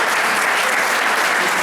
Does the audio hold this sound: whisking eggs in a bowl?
no